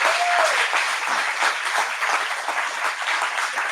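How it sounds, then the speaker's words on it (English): An audience at an anniversary celebration breaks into a steady round of applause, many hands clapping together in a bright, even wash that holds for several seconds. "I'd like everybody to give him a round of applause"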